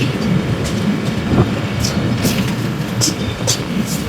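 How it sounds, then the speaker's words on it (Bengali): A passenger train pulls out of Pukuria railway station on the Faridpur–Bhanga line, a steady low rumble with light rattling and a few brief high squeaks or clanks scattered through, heard from on board. "8:38 আমাদের ট্রেন পুকুরিয়া থেকে ছেড়ে যাচ্ছে।"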